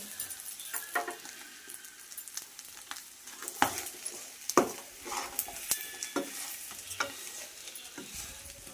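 Chicken pieces fry in a pan with chilli powder under a soft continuous sizzle, while a spoon stirs and scrapes them, giving repeated clinks and scraping bursts at an uneven rhythm close by.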